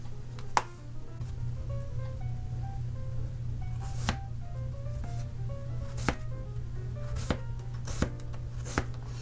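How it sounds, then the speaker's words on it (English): A knife chops half an English cucumber and three small red radishes on a cutting board in a few sharp, separate strikes over a steady low hum, close and moderately loud, with no talking. "Next, we're going to quarter these vegetables."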